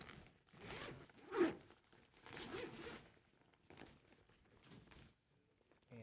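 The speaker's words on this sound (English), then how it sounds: "can never figure out how to open a bag with 20 zippers" A zipper pulled in several short rasping strokes, close by and fairly quiet, with soft rustling between pulls.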